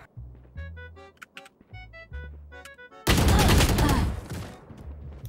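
Voices talk over the video game Valorant at first, then a loud, dense burst of rapid gunfire erupts for about a second before fading back under the talk.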